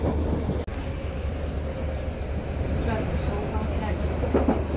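A Merseyrail train bound for Liverpool Central, approaching Kirkdale, rumbles steadily from inside the carriage with a low constant hum and rolling wheel noise, without speech.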